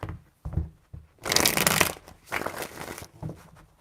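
Tarot cards are shuffled by hand in several separate rounds: short papery riffles and flutters with soft taps between them, close and clear, with no talking.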